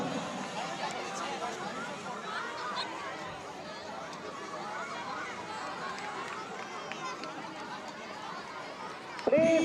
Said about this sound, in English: There's a crowd for Bhaskar.